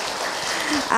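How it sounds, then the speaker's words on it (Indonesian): Brief burst of audience clapping at an Islamic women's study gathering, a steady hiss of many hands close by, with a voice starting at the very end. "Tepuk tangan."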